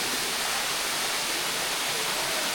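An easily reached waterfall, its steady broad hiss of falling water filling the scene evenly from start to finish.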